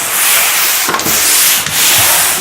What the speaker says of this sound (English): And sand everything.